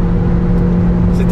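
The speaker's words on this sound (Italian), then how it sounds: "quando affondiamo il pedale dell'acceleratore con kickdown il motore si sente" A 2022 Kia Niro hybrid's engine under kickdown acceleration at around 170-180 km/h, a loud steady drone with low rumble and road noise filling the cabin, no speech.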